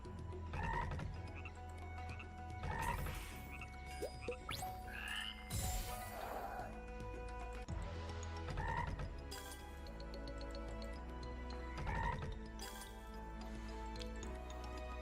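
Frog croaks from the Tai the Toad online slot game recur every couple of seconds over game music and mechanical ratcheting reel clicks, clear and fairly quiet, with no talking.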